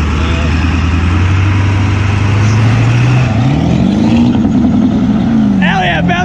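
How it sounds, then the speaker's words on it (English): Ford truck engine revving hard, its loud droning pitch climbing and wavering as though bouncing off the rev limiter, steady and close, with voices talking over it. "Hell yeah, bouncing off the rev limiter."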